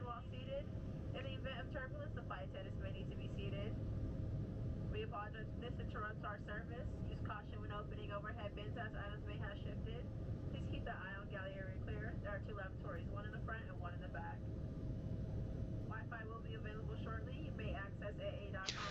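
In the cabin of an American Airlines Embraer 175 flying over the Atlantic, a steady low engine and air drone fills the background beneath continuous close talking.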